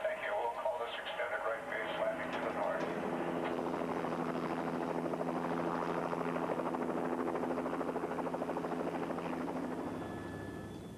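A police helicopter over Los Angeles spins up for takeoff, its rotor chop a dense, rhythmic low throb that swells steadily and dominates, with a radio-like voice faintly over it near the start.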